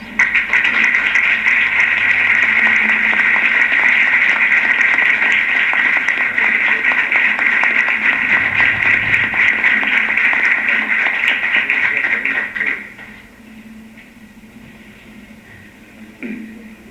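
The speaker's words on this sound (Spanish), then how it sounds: "yo quisiera pedir un aplauso para todos ellos por parte de los asistentes" An audience applauds at a lecture on culture and food in Arequipa, Peru: a long, loud, even wash of clapping that breaks off sharply near the end, leaving a quiet room.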